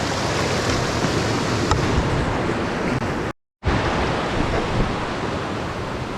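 A river rushes past a gold-prospecting claim in a loud, steady broadband roar, with one brief dropout to silence midway.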